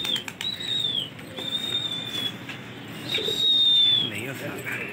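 Pigeons take off with a soft flurry of flapping wings, while thin whistles rise and fall above a busy outdoor background in Lucknow, India.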